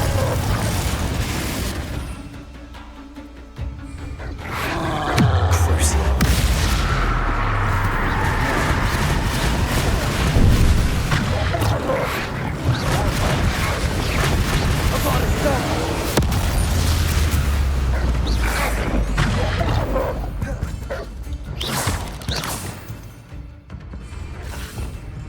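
Confringo spell blasts in the video game Hogwarts Legacy set off repeated booming explosions and bursts over game effects, with talk throughout.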